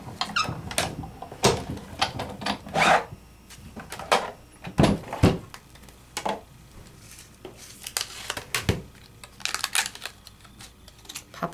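Sizzix die-cutting machine being hand-cranked to push dies through, giving a run of squeaky, clicking mechanical bursts in an uneven rhythm, close by, with no talking.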